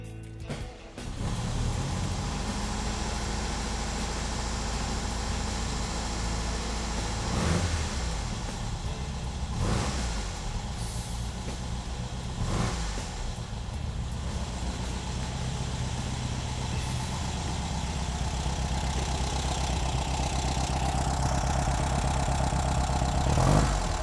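A VW engine with a freshly replaced 34PICT3 carburetor, a brief crank then catching and settling into a steady, slightly uneven idle, close and continuous with a few small revs.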